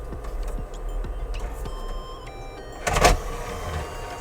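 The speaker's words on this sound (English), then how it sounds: "As you can hear, the disk drive is actually pretty decently quiet." A PlayStation 2 console's disc drive spinning, a quiet steady hum and whir with faint clicks and a louder burst of mechanical noise midway.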